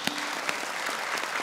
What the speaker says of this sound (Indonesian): Boleh tepuk tangan sekali lagi untuk Arfan Batam.